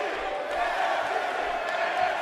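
A wrestling arena crowd in WWE 2K18 roars in a steady, distant wash of cheering and chanting, with commentary voices talking over it.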